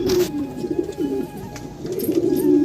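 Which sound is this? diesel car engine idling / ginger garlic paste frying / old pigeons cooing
old pigeons cooing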